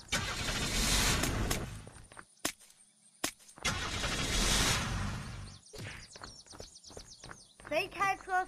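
A vehicle in the zombie survival game Unturned revs and drives in two loud engine bursts separated by quieter gaps, with excited voices chattering over it.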